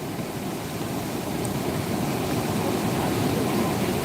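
Floodwater of the Sindfana river rushing over a submerged bridge, a steady loud roar of broadband churning water with no breaks, continuous and close throughout.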